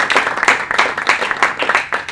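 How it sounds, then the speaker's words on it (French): A small audience at a business talk evening applauds Bruno, a close, brisk run of uneven hand claps lasting a couple of seconds with no talking over it. "Merci Bruno. Je vais l'applaudir."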